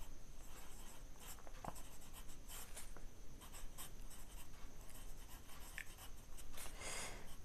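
Pen scratching across paper while numbers are written on a number line for a math lesson, a close, faint run of quick scratchy strokes with brief pauses, no voice over it.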